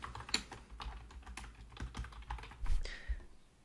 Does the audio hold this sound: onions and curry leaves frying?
no